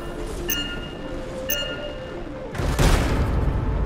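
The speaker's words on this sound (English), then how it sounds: "explosion destabilized the foundry" An explosive detonation in the video game Anthem hits as a sudden heavy boom, loud and close, after a stretch of dense rumbling game noise with faint metallic chimes.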